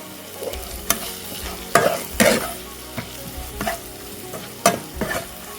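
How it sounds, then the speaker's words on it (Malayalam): Turmeric powder is stirred into a frying mutton heart mixture: a soft sizzle beneath repeated scraping and clacking spatula strokes against the pan, irregular and close. "ചെറിയ ടീസ്പൂൺ മഞ്ഞപ്പൊടി ഇടാം ഒന്ന് ഇളക്കി കൊടുക്കാം"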